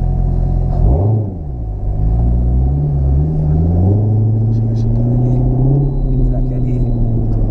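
A loud Corvette engine rumbles deeply up close, its pitch dipping and rising as the revs shift, with a voice speaking over the steady growl.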